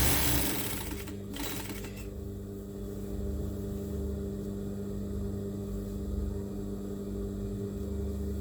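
A sewing machine stitching pleats in a tablecloth hums steadily and close, with a continuous motor drone after a brief rustle at the start.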